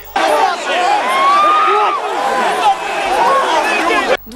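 Tense crowd scuffling with police during a protest storming, with dense overlapping shouts, yelling and chatter rising and falling loudly throughout, close and chaotic.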